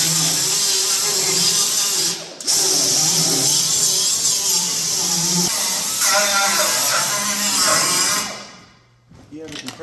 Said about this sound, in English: Actually, I'll just give that a light grind.